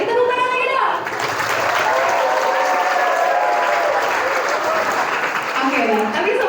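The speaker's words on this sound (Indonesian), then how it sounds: "Tepuk tangan lagi dong." Seminar audience clapping in a loud, continuous burst, with voices and whoops mixed in and a speaker talking over the applause.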